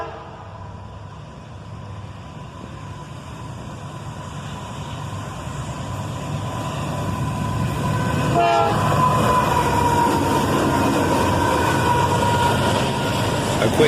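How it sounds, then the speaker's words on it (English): BNSF covered hopper freight train led by a pair of AC44CW locomotives passing southbound on a sunny afternoon, with a short horn blast midway and a rolling rumble that grows louder and closer afterward. "A quick horn salute from the engineer on a beautiful sunny afternoon, with a pair of AC-44 CWs leading this covered hopper train southbound."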